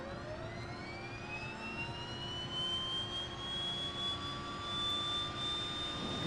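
Right engine of a DHC aircraft spooling up during startup in the FSX flight simulator, a steady rising turbine whine that climbs in pitch over several seconds, fairly quiet and heard alone.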